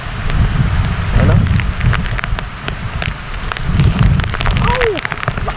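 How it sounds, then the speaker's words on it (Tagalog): Heavy typhoon rain pours steadily onto the ground and surfaces outdoors on a muddy road, a dense loud hiss that swells and eases with gusts, with a few sharp knocks and brief exclamations from a person. "Lakas na muna ano, ng bagyo."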